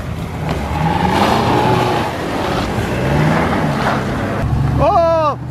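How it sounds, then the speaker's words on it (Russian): Mopeds drive up through the Vepsian forest with a continuous, loud engine drone that swells and fades as the bikes approach, and a whining rev rises near the end. "славные мопеды нас догнали сейчас"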